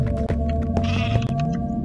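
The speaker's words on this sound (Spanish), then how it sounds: "Acá tengo una cabra, espera." A goat in a video game bleats in a few wavering calls over a steady low electronic hum, with faint clicks scattered around.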